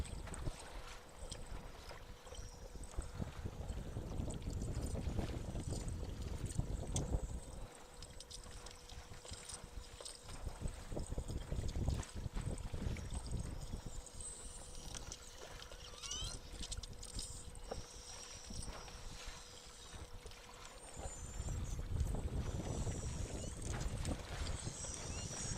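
A boat pulls out from a launch area on beluga-watching waters, a continuous low rumble of motor and water wash with wind and faint rattles, steady throughout with slight swells, no voices.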